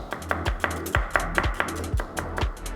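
A knife slices an onion into thin slivers on a cutting board, about a dozen sharp, regular chops in a steady rhythm, close and clear with no voices.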